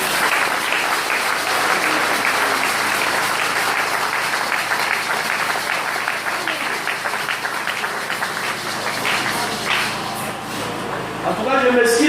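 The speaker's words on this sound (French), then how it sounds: "Applaudissons le Seigneur." A church congregation applauds the Lord with dense, sustained clapping and some crowd noise, loud and continuous, with a voice breaking in near the end.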